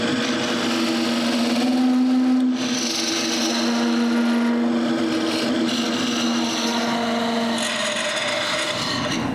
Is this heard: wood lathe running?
yes